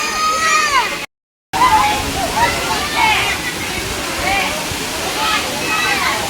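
A strong waterfall at a hidden hot spring in Laguna roars as a continuous loud rush of water, with voices talking over it and a brief silent gap early on.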